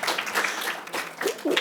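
An audience at an English department evening applauds an administrative assistant, a steady wash of clapping lasting under two seconds with some voices mixed in.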